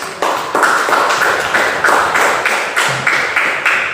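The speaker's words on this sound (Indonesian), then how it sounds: "Tepuk tangan dulu untuk kelompok." A classroom group claps together in a steady, even rhythm for a student group after their presentation, about three claps per second, close and loud throughout.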